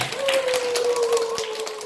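An audience at a joint band performance in a Busan nursing home claps for two performers, brisk close handclaps over a sustained tone, with some crowd murmur.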